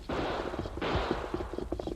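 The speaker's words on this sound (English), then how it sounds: "they heard distant gunfire." Distant gunfire in a radio drama western, a burst of several sharp cracks and a rattling volley heard from beyond a hill, moderately loud with a reverberant tail and no talking.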